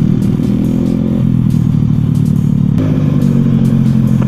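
A Honda Vario 110 carburetor scooter engine drones steadily and loudly while riding, a continuous low rumble with rattly clatter throughout and no pauses.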